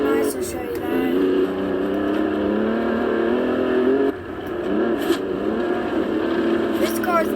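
A Jaguar luxury car drives in Forza Horizon 2, its engine holding a steady, loud, even drone that dips briefly and then picks back up.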